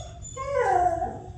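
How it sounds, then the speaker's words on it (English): An old dog gives a single short whimper, a thin rising whine that is close and clear, then trails off over a quiet low hum. "She's a funny old dog."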